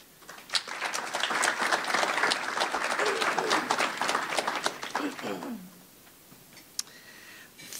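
Audience applause at a chamber of commerce economic forecast event, a steady roomful of clapping that fades out around the five-second mark, leaving a quieter room with a few scattered claps.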